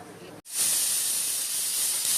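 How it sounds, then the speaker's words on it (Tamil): A pressure cooker cooking hotel-style sambar vents steam in a loud, steady hiss that starts abruptly after a brief pause and continues unbroken, close and alone with no talk. "2 விசில் வந்ததுக்கப்புறம் அடுப்பு ஆஃப் பண்ணணும்."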